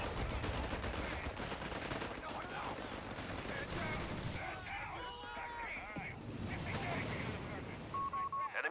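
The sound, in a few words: gunfire in Company of Heroes 3 video game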